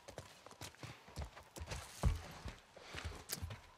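Hooves clip-clop in a steady irregular walking rhythm in The Last of Us Part 1 video game, close and fairly quiet, with light rustling and movement around them.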